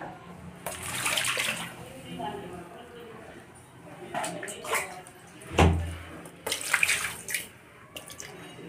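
Water poured and splashed in bursts while clothes are washed by hand, several sloshing pours near and moderately loud, with a thump midway and a person talking in between.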